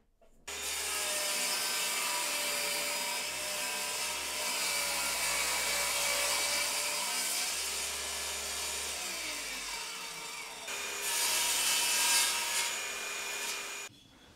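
A saw works through a scrap of plywood, cutting handle pieces for under-drill storage, with a continuous rasping stroke sound that runs close and steady for most of the span and briefly rises near the end.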